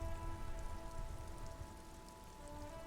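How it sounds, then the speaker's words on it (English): Rain falls on a police motor carriage in the video game Disco Elysium, a steady, even patter that runs unbroken throughout beneath a low, constant hum, with no voices. "Droplets of rain fall on the white on blue police livery of the motor carriage."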